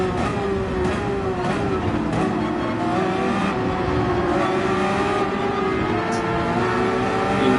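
A race car engine at Barcelona in a racing video game holds a high, steady revving drone at the start, loud and sustained with no pauses or speech.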